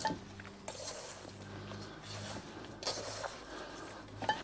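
Ingredients seasoned with salt being mixed in a bowl make soft, irregular scraping and clinking, close and fairly quiet, with no talk.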